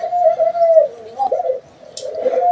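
Pet budgerigars in a cage warble and chirp up close, a continuous low twittering that breaks off briefly before resuming.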